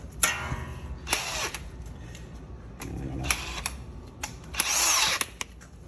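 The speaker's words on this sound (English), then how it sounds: "I had to go get my DeWalt impact wrench for this." A DeWalt impact wrench works on a tough strut bolt during a 2018 Chrysler Pacifica strut replacement, firing several short, loud, rattling bursts with pauses between them, close up and alone.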